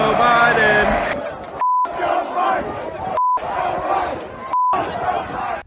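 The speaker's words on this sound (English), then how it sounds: "you could hear the crowd chanting the same thing" Crowd at a NASCAR race chanting in unison, a loud, rhythmic group shout repeated several times, broken up by short censor beeps.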